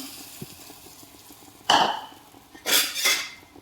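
Ground spice paste thinned with tamarind water goes into a pan of mackerel fish curry, giving a couple of loud metallic scrapes and clatters of a vessel against the pan over a quiet background.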